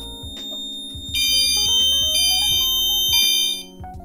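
A loud fire alarm system sounds continuously during a test, mixing repeating electronic beeps with rising, whooping tones that pulse throughout.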